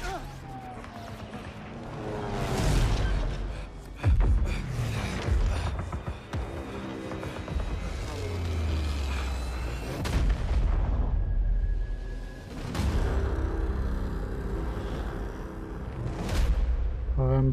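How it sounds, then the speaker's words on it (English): Loud, booming explosions with deep rumbles and crashing debris, mixed with mechanical clatter and dramatic score, several blasts spread across the stretch, from a Call of Duty Vanguard reveal trailer. "Explosion."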